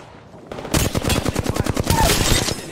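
Rapid gunfire from Apex Legends rattles out in a quick burst of evenly spaced shots, loud and close after a quieter opening half second, with no speech over it.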